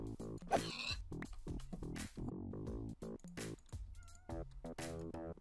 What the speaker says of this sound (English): There is a kitty here?